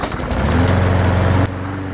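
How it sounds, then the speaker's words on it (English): A Briggs and Stratton 300e 125cc walk-behind lawnmower engine, recovered from the dump with worn piston rings, runs loud and close with a steady buzzing drone that drops off abruptly near the end. "So I let this mower run for a while"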